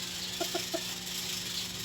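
A bantam chicken gives a few soft clucks, three brief notes in quick succession against a steady low background hum, fairly faint and close.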